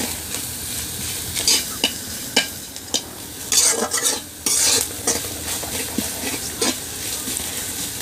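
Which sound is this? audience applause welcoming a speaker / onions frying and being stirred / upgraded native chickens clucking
onions frying and being stirred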